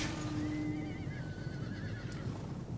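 Horses of the horse archers in Total War Medieval Kingdoms give a clear, drawn-out whinny over a steady low rumble of battle noise.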